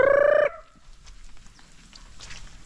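A loud, brief bird call, like a rooster or turkey, opens the clip, then fades into quiet rustling outdoor background.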